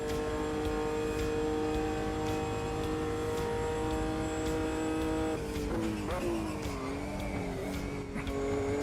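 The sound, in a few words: early Caterham or Lotus 7 car engine in Automobilista 2 video game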